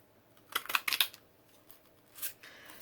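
Paper scissors snip out small paper dragonfly shapes in a quiet room, a quick run of four or five close, crisp cuts followed by a single fainter snip.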